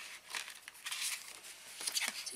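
Plastic packaging of a Paper for You sticker set crinkles and rustles as it is handled and opened, in short quiet bursts close to the microphone.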